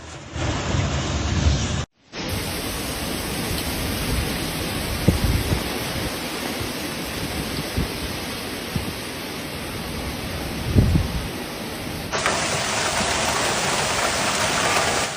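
Steady, dense roar of heavy rain in a thunderstorm with occasional low thunder rumbles, loud and continuous, briefly cut off near the start.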